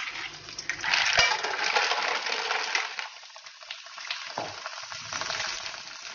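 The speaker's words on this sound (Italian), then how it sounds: "andiamo a buttare le cozze" Mussels are tossed into a pan of browned sizzling garlic with a close clattering rattle of shells, then a steady bright frying hiss that swells and fades.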